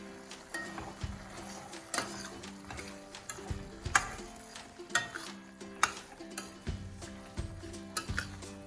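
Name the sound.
stirring sambar with salt in a pot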